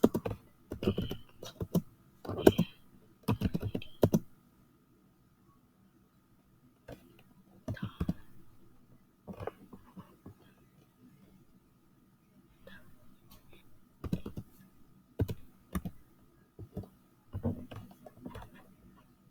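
Someone types on a computer keyboard in quick bursts of close, crisp key clicks separated by quiet pauses, the clusters coming in an uneven, hesitant rhythm.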